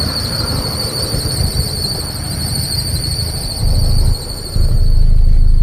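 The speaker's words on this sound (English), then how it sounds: "As you can hear, it sounds like the serpentine belt squeaking." A badly worn serpentine belt on a Toyota Celica squeals in a loud, continuous high-pitched whine over the idling engine, steady throughout and swelling louder toward the end.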